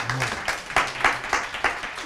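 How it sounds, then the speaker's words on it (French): An audience claps at a talk on design thinking and medicine, giving steady, moderately loud applause with rhythmic individual claps throughout. "C'est pour Inès les applaudissements"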